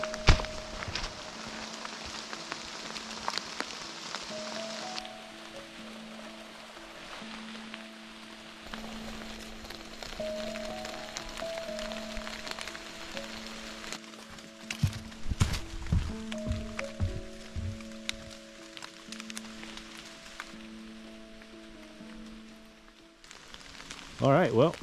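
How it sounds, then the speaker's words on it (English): Rain falls steadily on a wooded hiking trail in fall foliage at Parker Dam State Park, a constant soft hiss with occasional nearby footsteps and rustling, with no speech. "hopefully the rain slows down a little bit"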